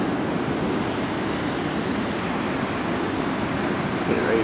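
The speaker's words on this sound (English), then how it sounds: "Ooh, waterfall." Waterfall at Cornell University, heard as a steady, loud broadband rush of falling water with no break, a dense roar that holds constant throughout.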